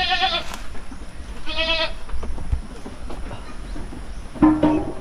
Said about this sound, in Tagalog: Yung mga kambing natin oh